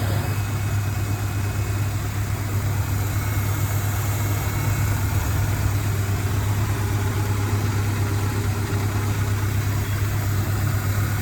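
A Ford Ranger engine idles smoothly after a coolant leak repair, a steady low rumble with a constant hum that holds unchanged throughout, close up with no voices.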